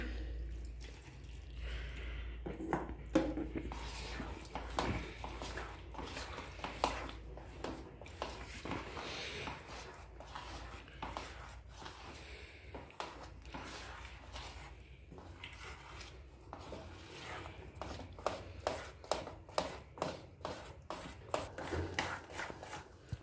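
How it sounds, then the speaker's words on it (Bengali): Cake batter is worked by hand with milk added little by little, giving close, wet squelching and rubbing with soft irregular taps and slaps, fairly quiet and steady, with no one talking. "এবার দুধটা দিয়ে মাখাতে থাকবো। অল্প অল্প দুধ দিয়ে মাখাবো।"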